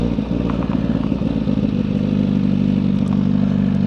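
A Suzuki GSXR 1000R motorcycle engine is held at just under 4,000 rpm, a loud, close, steady buzzing drone with a faint mechanical clatter and no voices.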